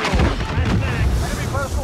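A rocket-propelled grenade explodes in a shooter video game, a loud, dense boom filling the short clip with rumbling low end and a sustained crackling wash of gunfire-like noise.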